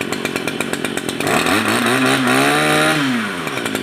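Used Japanese Maruyama 234 two-stroke brush cutter engine, idling with a rapid popping rhythm, then revved up to a loud, buzzing high-pitched whine that holds for a couple of seconds before dropping back down.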